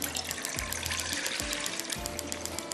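About four glasses of water pour into a cooking pan for yakhni pulao, giving a steady close splashing gush with a few low thuds, and no one speaks.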